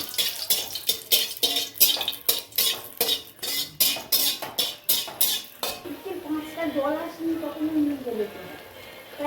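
Bitter gourd being stirred in a pan, rapid repeated metal scrapes and clinks of a spatula for several seconds, then a quieter stretch with a soft sizzle and a faint tonal sound.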